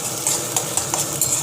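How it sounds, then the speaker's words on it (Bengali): Ginger, onion and garlic tossed into hot oil give quick, close stirring scrapes and taps over a faint sizzle in a short burst. "আদা, পেঁয়াজ, রসুন আমি সব তেলে দিয়ে দিলাম।"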